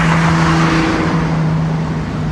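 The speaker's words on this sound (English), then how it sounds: "I can hear the engines louder, but it's not obnoxious." Steady, loud engine and exhaust drone from an Infiniti G37 cruising in gear, a continuous low hum with a constant tone filling the cabin, no talking.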